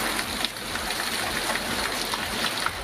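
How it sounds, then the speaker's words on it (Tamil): Steady heavy rain in Kanyakumari district, a dense continuous hiss of falling water with no talking, constant and fairly loud throughout. "நாகர்கோவில், திற்பரப்பு, சுருளோடு, பேச்சுப்பாறை, குழித்துறை உள்ளிட்ட பல்வேறு பகுதிகளிலும் இன்று காலை முதல் கனமழை கொட்டி தீர்க்கிறது"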